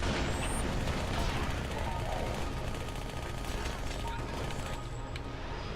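Automatic SMG fire in Halo: Spartan Assault plays as a dense, continuous rattle of rapid shots. It is loud and steady for the whole stretch and sits under game sound effects.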